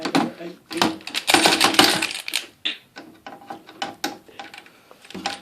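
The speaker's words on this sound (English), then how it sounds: "Then you want to grab a screwdriver like this. Then you want to start unscrewing these." A screwdriver backs screws out of a PC case with bursts of close, clicky ratcheting and metallic scraping, then scattered lighter clicks, while a person talks.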